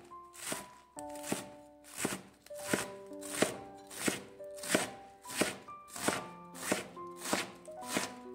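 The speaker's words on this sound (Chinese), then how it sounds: "再把它切成细丝。" A knife chops napa cabbage into thin strips on a cutting board in regular, evenly spaced thuds about twice a second, close and crisp over soft background music.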